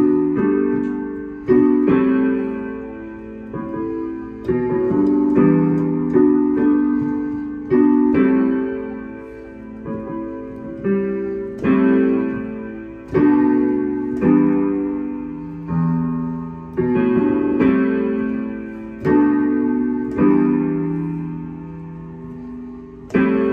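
A piano plays a song in E, with steady close chords and melody over low bass notes, recurring phrase after phrase with no voices.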